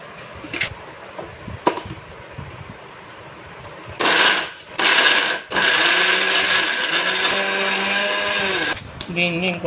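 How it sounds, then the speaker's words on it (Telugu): A mixer grinder grinds fresh coconut with a little milk into a smooth paste. After a few quieter clicks and handling sounds, the motor whirs loudly in two short bursts, then runs in one long steady grind before stopping. "పచ్చి కొబ్బరిని మిక్సీ జార్లో వేసి దీంతో కొద్దిగా మిల్క్ యాడ్ చేసి నున్నగా పేస్ట్ చేసుకోవాలి"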